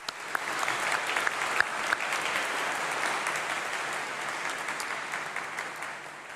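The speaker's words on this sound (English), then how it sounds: "perhaps you should give a round of applause and a huge cheer to say thank you to all your supporters" A graduation congregation audience breaks into sustained, dense applause for the graduates' supporters, with clapping holding strong throughout and easing slightly toward the end.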